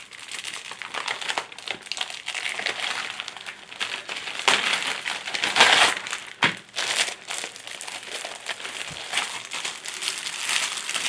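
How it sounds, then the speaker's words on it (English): A Ziploc-type plastic bag holding rhinestones crinkles and rustles close by in continuous bursts, with a few sharper crackles and snaps as it is handled. "this comes in a Ziploc type bag"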